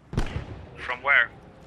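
A sharp explosion cracks out in the Post Scriptum video game, a single close blast that quickly decays, followed by voices talking.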